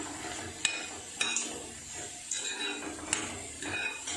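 Green beans stir-fry being stirred in a pan, a soft, continuous sizzle broken by about six sharp metallic clinks of a spoon against the pan, fairly close and with no talk.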